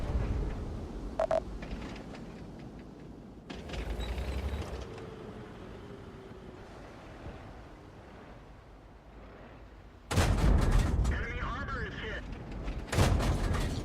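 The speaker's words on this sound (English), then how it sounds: "Getting some good shots here in the T-44." Tank cannon fire from a T-44 in a tank battle video game, heard as a few heavy booming shots with engine rumble and battle noise, plus a loud burst near the end, while someone talks throughout.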